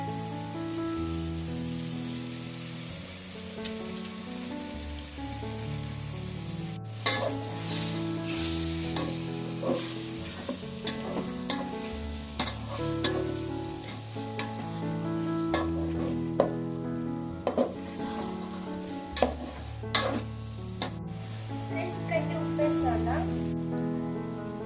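Chicken fries in a pot for a simple village-style chicken biryani, giving a steady, loud sizzle with crackling pops and occasional stirring scrapes, heard beneath background music.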